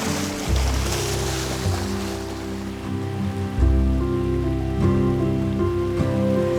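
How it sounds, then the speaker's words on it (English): Water splashing in the Elwha River as spawning fish dig gravel for their redds, a continuous close rush with a few louder surges, over a steady low hum. "You can hear the splashing as they're moving the gravels."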